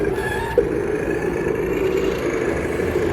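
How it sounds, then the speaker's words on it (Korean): Steady low rumble of road traffic close by, a continuous wash of engine and tire noise with no voices. "차도 옆이라 차 소리가 좀 심합니다."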